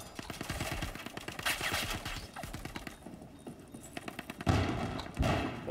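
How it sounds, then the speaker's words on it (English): Gunfire crackles in the Star Citizen video game as rapid bursts of repeated sharp shots, some in quick runs and some isolated, fairly loud over a busy combat background. "There's like shots everywhere"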